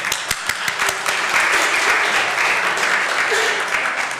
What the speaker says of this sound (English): I will always clap for breakfast tacos